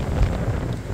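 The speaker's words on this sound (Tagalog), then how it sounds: "So, malakas talaga po yung hangin." Strong gusty wind buffets the microphone with heavy low rumbling, steady and loud throughout, no voices present.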